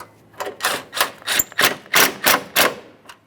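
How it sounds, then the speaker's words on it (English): A 10mm mounting bolt is run in with a ratchet while refitting the front bumper cover on a 2007-2013 Acura MDX 3.7L V6, producing about eight sharp, close clicking bursts in a quick, uneven rhythm. "Once you have them bolts started in, you can go ahead and snug those up."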